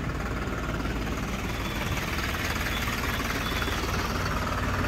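A New Holland 3630 Special Edition four-wheel-drive tractor runs with a 9-foot Landforce super seeder hitched behind, its engine giving a steady, loud, continuous drone throughout with no talk.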